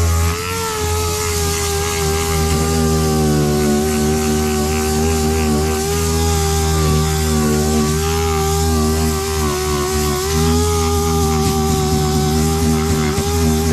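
A power sander with an 80 grit pad buzzes loudly and steadily against a creased, dented Harley motorcycle fender, with the sound sustained and close throughout.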